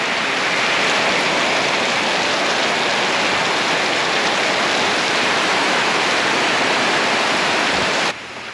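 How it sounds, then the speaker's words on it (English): Steady, dense rain noise inside a greenhouse garage, a broad continuous hiss of water pattering, loud and constant, stopping abruptly near the end. "So it started to rain inside a bit."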